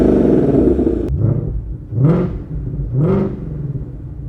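A 2020 Shelby GT500 V8 idles loudly up close in track mode, then gives two sharp revs about a second apart that rise and fall, with no talking over it.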